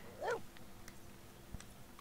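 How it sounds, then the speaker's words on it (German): A dog barks briefly in The Sims 4, one short yelp near the start over a low, steady game background hum, followed by a faint thump. "Auch ein hübscher Hund."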